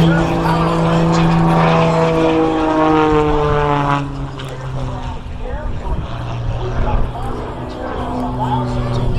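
A powerful aerobatic airplane engine roars at an air show, a loud steady propeller drone that shifts pitch as the plane maneuvers, with an announcer talking over it.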